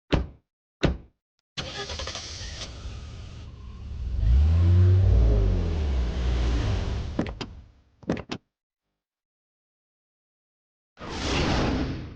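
A car engine revs up as the vehicle pulls away, a rising mid-range roar swelling for a few seconds between sharp door thumps and knocks, then cutting out before a brief later burst of noise.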